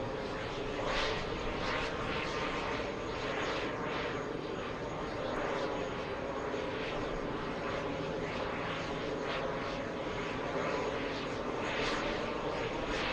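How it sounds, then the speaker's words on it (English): Steady broadband roar of an aircraft auxiliary power unit running at an airport gate during refueling, continuous and loud with no breaks. "APU is on. That's where all the sound is coming from."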